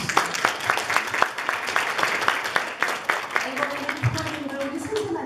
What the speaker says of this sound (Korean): 부모님들한테 박수 한번 쳐드립니다